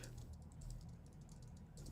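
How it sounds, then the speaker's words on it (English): Typing on a computer keyboard, a quick run of soft, close key clicks over a low background hum, faint and continuous for a couple of seconds. "I'm typing that into the chat right now."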